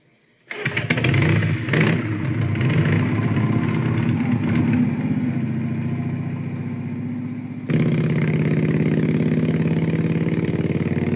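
A motorcycle engine fires up and settles into a loud, steady idle close by, with the engine note shifting slightly higher partway through.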